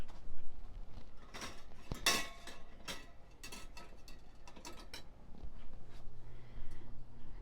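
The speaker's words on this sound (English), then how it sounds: "You're placing the rack down on the griddle. You're taking your pan that has your cake in it." A metal rack and a pan holding cake batter set down on a Blackstone griddle: a run of sharp metallic clanks, taps and rattles, some close and ringing, with quieter scraping and shuffling between them.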